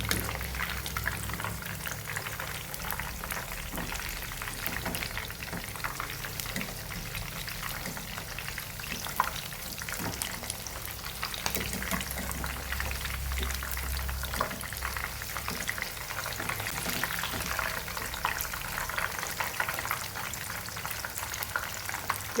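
Chicken pieces fry in hot oil in a pan, giving a steady, continuous sizzle and crackle that stays even throughout with no talk over it.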